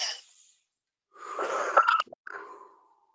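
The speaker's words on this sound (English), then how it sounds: "And breathe." A person takes a slow, deep breath: a short airy exhale, a pause, then a longer noisy inhale ending in a brief catch, followed by a softer trailing exhale, close and quiet.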